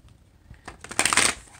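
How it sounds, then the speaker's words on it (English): A deck of cards being shuffled up close, a quick riffle that builds into a dense, bright burst of flicking before tapering off. "let me get you one more shuffle"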